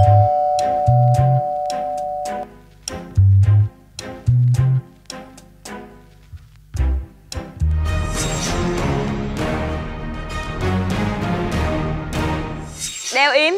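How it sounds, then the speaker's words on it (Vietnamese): A doorbell is pressed again and again, sounding a series of short repeated chimes close by before a dense burst of tonal sound takes over. "Bấm chuông đi, bấm chuông."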